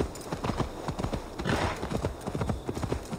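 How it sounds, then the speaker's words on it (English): Horse hooves clip-clop steadily in Assassin's Creed Valhalla, a quick rhythmic trot of close, clear hoof strikes continuing throughout, with a brief whinny-like burst in the middle. "is that my horse?"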